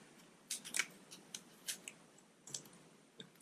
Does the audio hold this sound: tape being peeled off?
yes